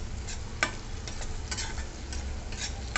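Onion garlic masala with red chili being sautéed in a pan, a low continuous sizzle under repeated scraping and ticking stirring strokes at an uneven rhythm, fairly close and quiet.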